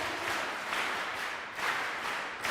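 Audience at a college cultural day clapping steadily in unison, a dense continuous wash of applause that swells in waves with no voices over it.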